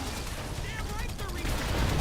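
Machine gun fire in Call of Duty: World at War, bursting from an enemy MG nest in a combat scene, a steady dense rattle of gunfire that builds slightly louder toward the end.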